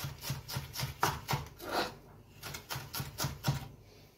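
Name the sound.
knife finely chopping (ciseler) on board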